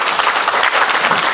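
An audience claps for Dr. Rozaimi at a public forum on extremism in Malaysia, a loud, dense burst of applause from a crowd, steady and close throughout.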